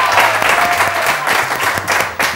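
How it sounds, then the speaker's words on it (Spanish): An audience at a live quiz show applauds a contestant with loud, close clapping and some voices mixed in, continuing through the whole short stretch. "un aplauso para Tony."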